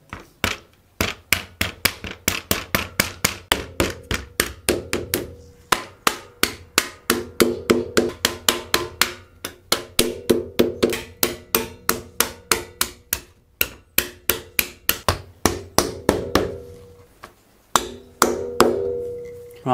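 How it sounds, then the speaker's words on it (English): Someone taps a part into place on an xTool D1 40W laser engraver with a hammer, a long run of sharp, close metallic-wooden knocks in irregular bursts with brief pauses. "Yeah, definitely a hammer job."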